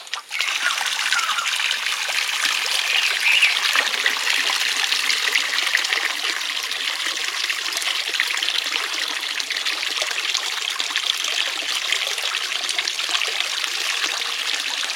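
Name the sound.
water being poured out of a catch pot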